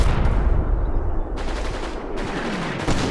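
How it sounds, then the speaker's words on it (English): Machine gun and mortar fire on a Combat Mission battlefield in Italy, New Zealand troops against Germans: loud, dense gunfire with rapid bursts and heavy thuds, continuous and close. "that machine gun fire mixed with that mortar fire must be just devastating"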